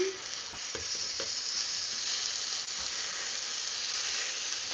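Steaks sear in a dry pan without added oil, giving a loud, continuous close sizzle with a few faint scraping knocks near the start; no voices.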